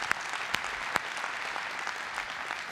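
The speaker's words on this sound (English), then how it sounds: "can I get another round of applause for Aaron?" An audience at a DockerCon general session keeps up steady, fairly distant applause, with a few sharper claps standing out early on.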